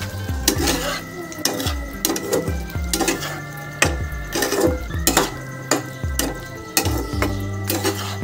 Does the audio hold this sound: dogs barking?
no